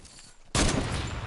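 Gunfire in the Fortnite video game: a sudden, loud burst of shooting cuts in after a quiet moment and keeps up as a dense, noisy crackle to the end, with no voices over it.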